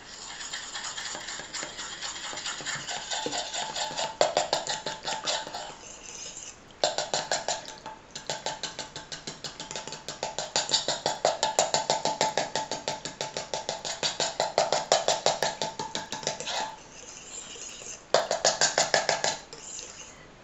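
A utensil stirring a mixture in oil in a pot, giving rapid rhythmic scraping and clinking strokes that run continuously with a few brief pauses, close and fairly loud.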